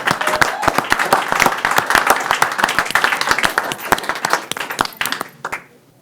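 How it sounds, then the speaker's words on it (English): A small audience at a board of trustees meeting applauds schoolchildren, distinct individual claps forming a lively burst that thins out and fades to silence at the end. "Let's give these kids one more round of applause."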